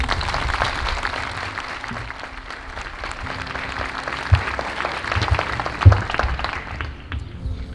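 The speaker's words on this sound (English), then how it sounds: "Can you please give them a round of applause?" Audience applause at a girls' high school valedictory assembly, sustained clapping from a large crowd with a few sharper bumps and thumps partway through, tapering slightly toward the end.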